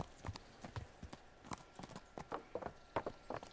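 Hooves of a horse in the video game Kingdom Come: Deliverance clip-clop at an unhurried walking pace, a steady series of close, crisp knocks with no talking.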